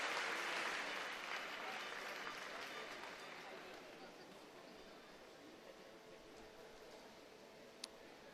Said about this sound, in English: Everybody, let's have a massive round of applause for Shan Harkin.